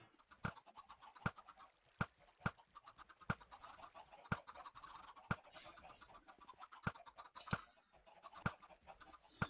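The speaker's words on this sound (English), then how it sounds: "As you can see, we've got a nice load of chickens in there." Chickens cluck continuously inside a Minecraft chicken processor, a busy chatter of many birds punctuated by sharp, regular clicking game sounds, at moderate volume with no talk.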